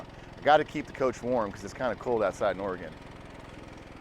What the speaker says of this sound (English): What you're hearing there is the exhaust from the gas generator running right now.